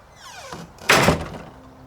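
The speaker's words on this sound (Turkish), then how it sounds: "kapıyı kapat, içeri geç ve ben diyene kadar açma" A door is shut with a single loud, close thud midway through, in an indoor setting, with the impact ringing briefly before it fades.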